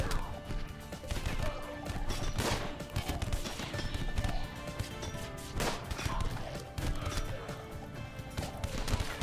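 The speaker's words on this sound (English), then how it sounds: "Triple rocket." Triple rocket launcher fire in the RimWorld video game: a dense, chaotic run of repeated crashing blasts and impacts, steady and fairly loud throughout.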